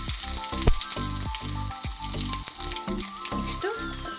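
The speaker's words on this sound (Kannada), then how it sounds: "ಅದು ಸಿಡಿತಾ ಇದ್ದಂಗೆ ಬೆಳ್ಳುಳ್ಳಿ ಹಾಕ್ತೀನಿ." Garlic hits spluttering cumin-and-mustard tempering oil, producing a steady close-up frying sizzle punctuated by frequent sharp pops and crackles, with faint stirring and no talk.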